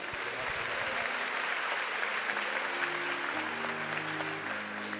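A church congregation at an Assembly of God celebration service applauds in a broad, even wash of clapping, and sustained low organ-like tones enter partway through beneath the clapping.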